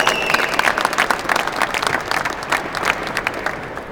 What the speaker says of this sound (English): So I want a round of applause